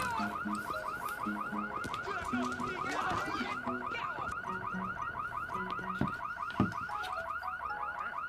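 A burglar alarm rings in The Sims, a steady electronic warbling siren pulsing rapidly and continuously at high volume, with a sharp low knock or two near the end.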